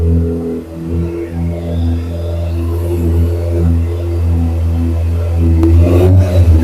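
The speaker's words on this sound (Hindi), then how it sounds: "ये थी आपकी 2026 कावासाकी ZX6R की आवाज" A 2026 Kawasaki ZX6R motorcycle warming up from cold, its engine loud and close with a steady idle rising into revs toward the end.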